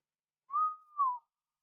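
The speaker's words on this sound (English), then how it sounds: "I just Like whistled into the mic" A short, clear two-note whistle, close to the microphone, with a sliding tone dipping briefly in the middle, surrounded by silence.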